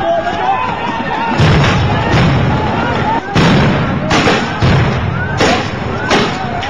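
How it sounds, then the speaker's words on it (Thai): Police fire tear gas grenades at a crowd in front of the Metropolitan Police Bureau in the evening: several loud, sharp bangs and thuds in quick succession over crowd noise and shouting. "เจ้าหน้าที่ตำรวจระดมยิงระเบิดแก๊สน้ำตาเข้าใส่ประชาชนอีกรอบอย่างบ้าคลั่ง"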